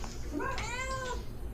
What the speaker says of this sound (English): Oh, they're all meowing.